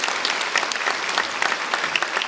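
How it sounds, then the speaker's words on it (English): Audience applause at a charity evening of song, a steady wash of clapping from a seated crowd, sustained and moderately loud throughout with no voices over it. "Give David a round of applause."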